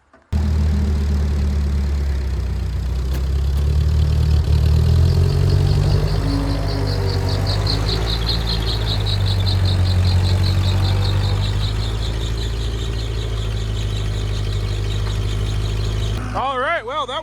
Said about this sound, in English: we're just going to hook onto the front axle of this tractor and pull gently, and it should pop up out of there